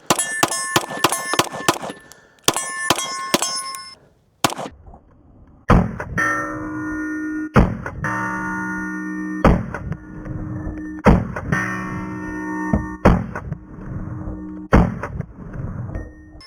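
First-generation Smith & Wesson M&P pistol in .40 S&W fired at a range, sharp loud gunshots, a quick cluster at first, then single shots roughly every couple of seconds with ringing metallic echoes, close by.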